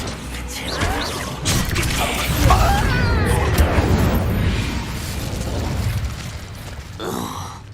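A blasting spell cast in the Hogwarts Legacy video game, a loud sustained roaring burst with crashing debris that rolls on for several seconds before tapering off, with a brief swell near the end.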